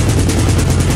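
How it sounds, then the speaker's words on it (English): A 30 millimeter aircraft gun fires a dense, loud, continuous burst of rapid rounds that blur into a roaring rattle, heard alone with no voices. "Target identified. On guns."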